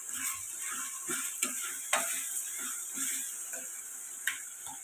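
Poha tempering with turmeric cooks on a low flame, giving a soft, steady sizzle broken by a few light scrapes and taps of a spoon against the pan, quiet and close.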